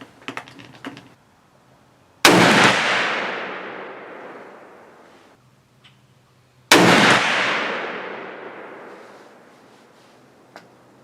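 A Savage 110 Desert Tactical rifle fires two loud, sharp shots several seconds apart at an outdoor range. Each crack rings out with a long decaying echo.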